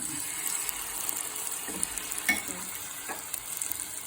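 Jackfruit pieces frying in a little coconut oil in a pan, a steady soft sizzle with faint stirring scrapes now and then, fairly quiet throughout.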